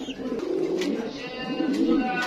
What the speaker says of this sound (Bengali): কবুতর দেখতে পাচ্ছি, এটা আউল